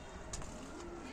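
Faint, low pigeon cooing, a soft rolling call half buried in steady background noise.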